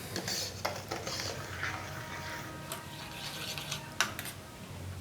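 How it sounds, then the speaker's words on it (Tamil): A spoon scrapes and clinks against a pan while guava jam is stirred, giving soft, close, irregular metallic taps and scraping strokes at low volume. "கொஞ்ச நேரம் கலந்து விட்டுட்டே இருக்கலாம்"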